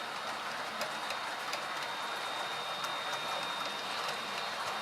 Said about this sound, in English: See, there goes the train.